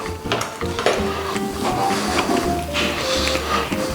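The inside of a pumpkin is scooped out for a jack-o'-lantern, wet scraping and squelching strokes close by that repeat unevenly over a constant busy background.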